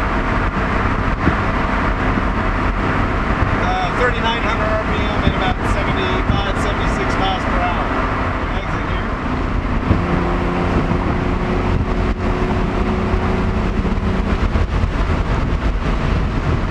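A car passes on the road near a running 1966 Corvair with an intermittent stalling and rough-running fault, its approach blending into steady, loud engine and road noise throughout, with no clear talk.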